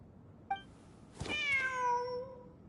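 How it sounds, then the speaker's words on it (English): A cat in the video game Genshin Impact gives a short chirp and then one clear, drawn-out meow that rises and falls, close and fairly distinct against quiet background, with no talking. "Wait, there it is! The cat!"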